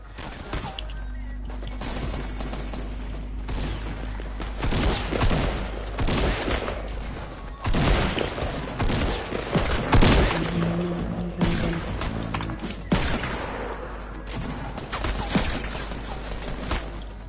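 Fortnite gunfire on PS4 comes as dense, continuous volleys of shots and cracks over a low rumble, heavier bursts hitting around the middle and staying loud throughout.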